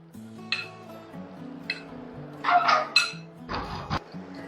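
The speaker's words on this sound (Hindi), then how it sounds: "अब हम इसे अच्छे से मिक्स करेंगे" A spoon clinks and taps against a bowl while sandwich filling is mixed with mayonnaise, giving a few scattered light knocks and a brief busier stretch of scraping over a low steady tonal hum.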